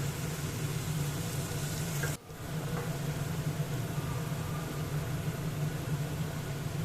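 Potatoes frying in a pan for a vegetarian chickpea ghugni, a steady close broadband sizzle with a low hum that holds throughout, broken by one brief dip and clunk near the middle.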